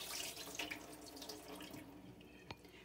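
Water from a pot of pea soup on chicken broth being poured out into a kitchen sink, a soft splashing trickle that fades near the end, with a single drip or clink before it finishes.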